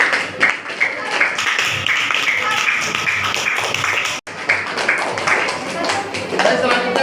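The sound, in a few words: classroom applause for a classmate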